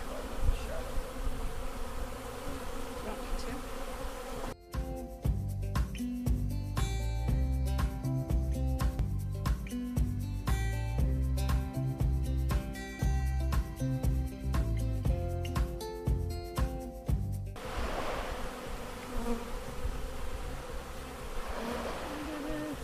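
A dense, continuous buzz of many honeybees close by around hive frames, with music playing over the middle stretch.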